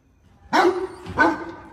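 A dog barks twice, close by, two sharp woofs about half a second apart against a quiet background.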